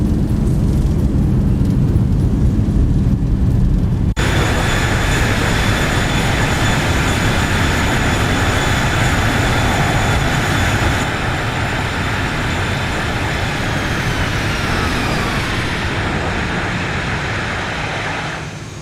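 Boeing 737-800 landing at idle power in a flight simulator game, a steady loud broadband engine and rolling roar that kicks in abruptly, holds for the rest of the clip with a high whine, and eases off slightly toward the end.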